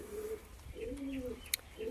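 Pigeons at a pigeon sale coo in low, drawn-out, repeated phrases close by, with a single sharp click partway through.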